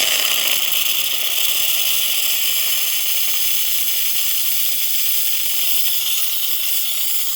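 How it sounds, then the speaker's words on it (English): Steady, loud hiss of steam jetting from the steamer wand of a Philips coffee machine after its clogged steam path was cleared, continuous and close with no talk. "excellent steam coming out from the machine"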